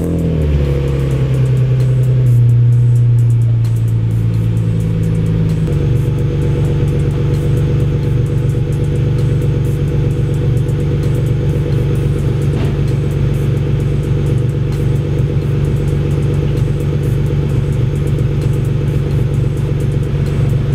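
A parked family car is started and driven out of a home garage onto the driveway, engine revving briefly then settling into a steady, close idle rumble that continues throughout with no voices.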